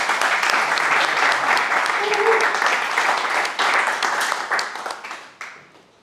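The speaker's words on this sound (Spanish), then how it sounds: "Un fuerte aplauso para él, por favor." Loud, dense applause from a crowd at a book presentation, steady for several seconds before gradually thinning and fading out toward the end.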